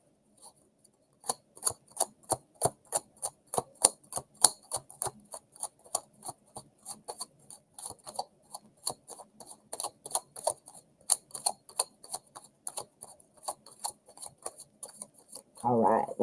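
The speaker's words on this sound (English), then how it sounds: "That is a good shuffle." Tarot cards are shuffled by hand in a quick, rhythmic series of crisp riffling snaps and clicks, dozens of close, sharp bursts evenly spaced, ending with a brief rustle.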